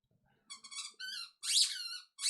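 Repeated high-pitched squeaks come in short bursts in the background of an AF4 racing session at Jerez, likely from a dog's toy or the dog itself, fairly faint, with no voices.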